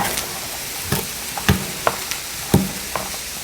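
Vegetables stir-fried in a pan for an Italian-style vegetarian dish, with a steady hiss of sizzling oil broken by occasional louder clacks and scrapes of stirring.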